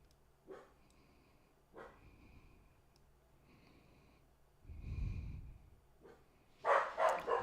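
A dog named Max barks indoors, a handful of short separate woofs and snorting huffs spread out at moderate distance, ending in a louder cluster of barks.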